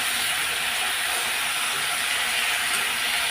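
Spinach frying with onion, green chili paste and cumin powder in a pan, giving a steady loud broadband sizzle and hiss with no clear breaks.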